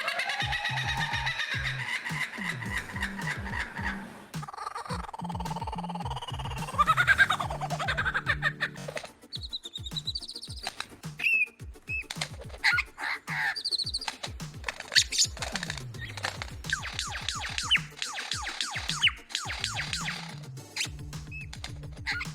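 A male lyrebird runs through a long string of mimicked bird calls, with clear whistles, chirps, trills and rapid clicking phrases that change from one species to the next, loud and close with no voices.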